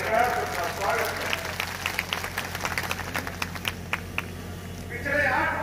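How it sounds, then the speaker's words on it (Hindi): A crowd claps at an outdoor BJP political rally in Pilibhit, scattered hand claps building into a ragged patter over a low hum, with a voice talking at the start and end. "एक बार तालियों के गड़गड़ाहट से उनका स्वागत है"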